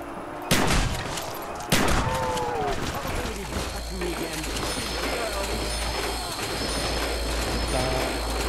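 Gunfire in Call of Duty Black Ops Zombies, with two sharp loud shots near the start followed by a dense, continuous wash of game noise and clatter while people talk over it.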